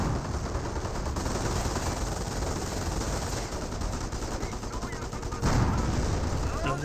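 Rifle squad gunfire in a Company of Heroes 1 battle, a dense continuous crackle of rifle and machine-gun shots mixed with distant battle noise, steady and busy, with a commentator talking over it at times.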